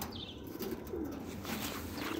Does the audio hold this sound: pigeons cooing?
yes